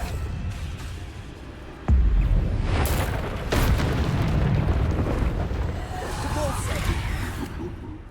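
Bombarda exploding spell in Hogwarts Legacy, a sudden heavy boom followed by rumbling blasts and debris under continuous game noise, with a voice speaking over it.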